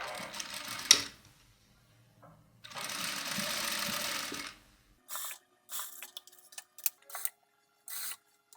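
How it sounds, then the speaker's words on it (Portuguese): A straight-stitch sewing machine, set to a long stitch length, sews a dress sleeve hem with a quiet, close, whirring run of stitching, then several short stop-start bursts with soft handling noises between them. "Vou fazer isso lá na máquina reta com o ponto maior regulado na minha máquina."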